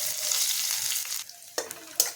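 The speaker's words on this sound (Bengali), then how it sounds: "এর মধ্যে আমি এখন পেঁয়াজ কুচিগুলোকে দিয়ে দেব।" Chopped onions fry in hot oil for a rui fish curry, a loud crackling sizzle that drops off, followed by a couple of sharp stirring scrapes.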